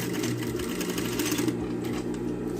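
A sewing machine runs continuously while stitching a small fabric phone pouch, its fast needle hum steady and close throughout, with no voices.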